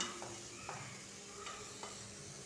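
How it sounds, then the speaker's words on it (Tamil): Vegetables sautéing in oil over a medium flame, a steady soft sizzle with a few brief stirring scrapes against the pan, close and alone with no talk. "காய்கறிகளை ஒரு ரெண்டு டு மூணு நிமிஷம் மீடியம் ஃப்ளேமில் இந்த எண்ணெயிலே நல்லா வதக்கி எடுத்துக்கலாம்"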